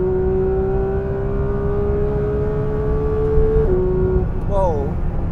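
A Porsche 911 GT3 launches at full throttle on a quarter-mile run, its engine holding a loud, steady high-revving tone before the pitch dips briefly near the end, as with a gear change.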